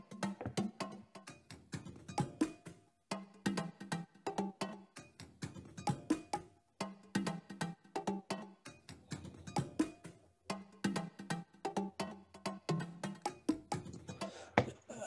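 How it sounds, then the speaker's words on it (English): Congas play alone from a dance track, a rhythmic pattern of crisp hand slaps and deeper open tones repeating in a steady, syncopated call-and-response groove with brief pauses between phrases. "I think I worked on the congas quite early on with this because that's what the track revolves around."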